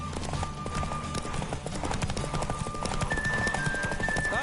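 Horse hooves clip-clop in a fast continuous gallop throughout The Witcher 3 video game, steady and close, with an occasional whinny and game sounds layered over it.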